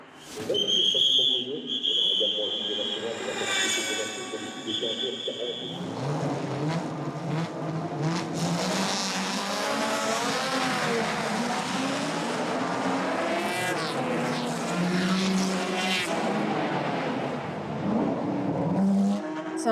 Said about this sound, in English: It's such a thrill to see cars passing by so close at speeds like that.